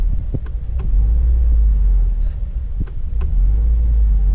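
A 2015 Subaru WRX engine rumbles steadily near the car's interior, with a few brief clicks and a low, constant drone rather than a sharp rev after the throttle pedal is released.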